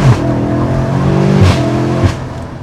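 A 1000hp BMW M5 accelerates hard from inside the cabin, its engine note climbing and then dropping briefly as it shifts from third into fourth before pulling again, loud and continuous.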